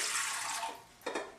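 Warm water poured into a stand mixer bowl fitted with a dough hook for pizza dough, a steady splashing stream that thins out, then two short final splashes.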